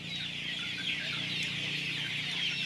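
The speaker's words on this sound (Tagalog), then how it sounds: "Dami-dami manok, buhay naman lahat." Dense clucking of many chickens on a poultry farm in Vietnam, a steady crowded chorus of hens and roosters with a low farm hum beneath, continuous and fairly close throughout.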